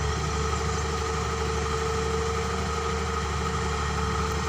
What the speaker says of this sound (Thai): เสียงเครื่องมันอ่อนๆไปนิดนึงนะครับ